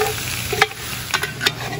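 Meat and green beans sear and brown in a pot for a Cajun pastalaya, a steady close sizzle broken by a few sharp scrapes of stirring, with no talking.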